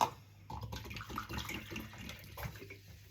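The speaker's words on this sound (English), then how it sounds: "I'm using bubbly water." Sparkling water is poured into a batter for Roman-style fried zucchini blossoms, giving a soft, continuous splashing and fizzing trickle heard close up with no talking.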